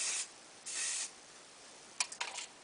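Hairspray misted onto hair lifted with a comb, a steady hissing burst of about half a second, a second longer burst, then several short quick spritzes close to the microphone.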